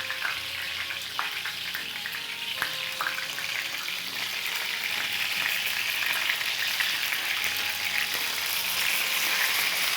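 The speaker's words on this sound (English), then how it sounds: "We'll keep turning the eggplant until all sides are nicely soft and sauteed." Eggplant sautéing in a hot pan, heard as a loud, continuous close sizzle and crackle of frying with occasional light stirring sounds, no voices.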